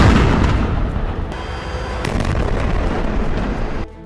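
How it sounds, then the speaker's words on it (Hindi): Explosives seized from Hamas in a Gaza camp, detonated by the Israeli army: a loud, sustained blast roar with heavy low rumble and scattered cracks, rolling for several seconds before cutting off abruptly. "इजराइल की सेना ने यहां मिले विस्फोटकों को उड़ा दिया।"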